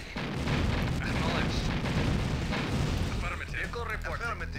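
Artillery fire in the real-time strategy game C&C Red Alert Counterstrike, dense booming blasts and rumbling explosions packed together, loud and continuous, with short clipped unit voice responses breaking through near the end.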